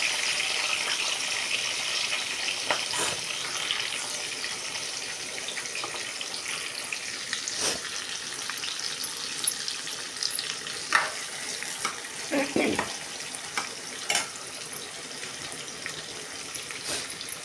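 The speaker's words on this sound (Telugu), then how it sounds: "తోటకూర అయితే ఉడుకుతుంది ఇదిగోండి ఉడుకుతుంది తోటకూర" Amaranth leaves boil in a pot on a home stove, giving a steady close bubbling hiss with a few soft clinks and knocks, and no talk.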